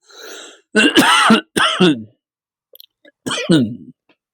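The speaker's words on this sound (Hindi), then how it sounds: "थोड़ा खाँसी आ गया था।" Several loud, close coughs and throat-clearing bursts come in quick clusters separated by brief silences.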